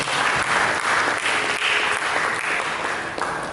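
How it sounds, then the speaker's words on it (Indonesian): An Indonesian church congregation claps for Jesus during a sermon, a thick, even wash of applause sustained at full strength without pause through the whole stretch. "Berikan tepuk tangan bagi Yesus."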